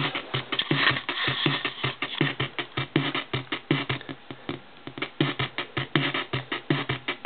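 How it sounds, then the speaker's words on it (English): A crunchy, lo-fi drum machine beat with steady rhythmic hits, its sound gritty and distorted from heavy sample-rate reduction, playing alone. "So first I'll show you what the drum machine sounds like"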